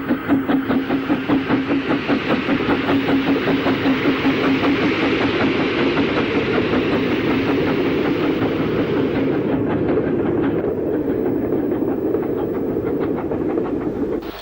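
GWR steam locomotive Pendennis pulls out of Worcester station bound for Swindon, with rhythmic chuffing and steady rolling clatter close and loud throughout, easing slightly toward the end.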